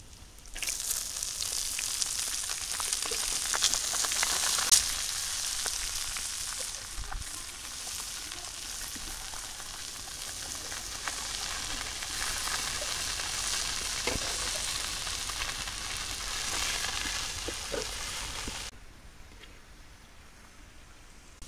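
Leafy greens (shak) frying in a pan in a village kitchen, a steady close hiss and sizzle with occasional stirring clicks and crackles running continuously, then dropping abruptly quieter near the end.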